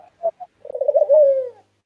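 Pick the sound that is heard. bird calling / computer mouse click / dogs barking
bird calling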